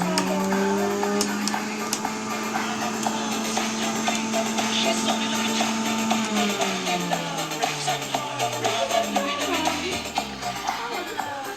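A Kivi slow juicer presses carrots with a steady mechanical whirring and grinding, its pitch sliding lower near the end as the motor slows. Rattling and crunching from the pulp come through the whole time, and no one speaks.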